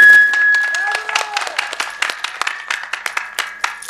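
Scattered claps ring out from a crowd at a village stage magic show in Kandhu Munda, uneven and sparse, with a whistle-like tone and a voice heard alongside.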